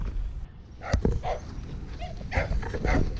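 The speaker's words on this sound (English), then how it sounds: "As you can see, it's full of barking dogs and people." Dogs barking in Bodie ghost town, California: several short barks scattered through a steady outdoor background, moderately near.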